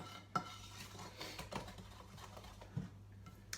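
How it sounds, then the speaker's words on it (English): A heavy mixing bowl clanks and knocks as batter is stirred, giving a few sharp close-up clunks over a steady scraping stir. "Sorry, that's a really loud, heavy bowl."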